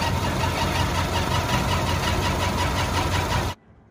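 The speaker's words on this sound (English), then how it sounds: "There's the squeak again." A running 1931 Ford Model A pickup engine churns steadily with a rhythmic squeak from damp belts, loud and close, before cutting off abruptly near the end.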